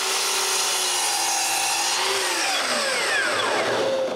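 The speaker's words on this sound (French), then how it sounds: "Maintenant, il faut couper 2 lisières à bonne longueur." A saw cuts melamine edge strips to length in a woodworking shop, a loud, steady rasping and whining cut that runs unbroken for several seconds.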